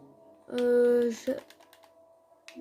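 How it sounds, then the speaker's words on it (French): Quick clicks of typing on a computer keyboard, close and fairly soft, following a louder sustained tonal sound at the start. "je vais marquer avec mon clavier"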